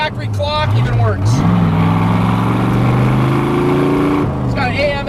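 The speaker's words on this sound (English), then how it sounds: "I love those side pipes, man. They sound great." A restored 1965 Chevrolet Corvette coupe with a 327 cubic-inch, 365 hp V8 revs loudly through its side pipes, the note climbing and holding before dropping back, with a voice briefly at the start and end.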